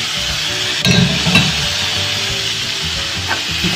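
Olives and tomatoes hit a hot frying pan with a steady, close crackling sizzle, broken by a few sharp clinks and stirring scrapes of a utensil against the pan.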